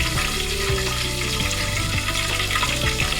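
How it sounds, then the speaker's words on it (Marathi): Curry leaves dropped into plenty of hot oil for a spicy Maharashtrian amti, crackling and sizzling loudly and steadily up close with sharp popping bursts throughout. "तेल टाकल्यानंतर त्यामध्ये कढीपत्ता टाकून घेतला."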